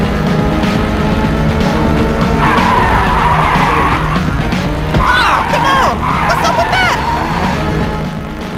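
Race cars in an Xbox 360 split-screen racing video game skid and squeal their tires in long wavering screeches over constant engine roar, loud and continuous, with a murmur of crowd noise underneath.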